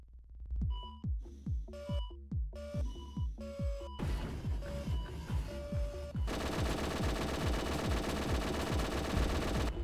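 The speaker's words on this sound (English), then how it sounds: "Wow, the minigun is really powerful to do that." A minigun in the combat game G-Police 2 fires rapid, steady bursts, with electronic beeps and tones woven between the shots, and then settles into a continuous dense roar of fire, loud and with no talking.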